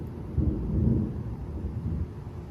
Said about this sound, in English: Those thunder cracks are shaking the fence